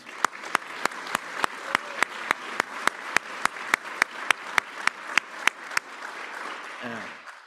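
Audience applause at a lunar science conference meeting for two moon-lander teams, a steady bed of clapping with sharp rhythmic group claps cutting through regularly, tapering off as a voice resumes at the end.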